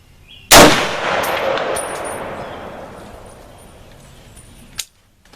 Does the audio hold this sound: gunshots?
yes